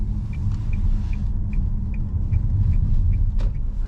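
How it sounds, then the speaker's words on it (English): Steady, evenly spaced indicator clicks tick over a low engine and road rumble inside a 2023 Nissan Juke Hybrid at night, with no one talking. "Relaxed clicking sound of the indicator."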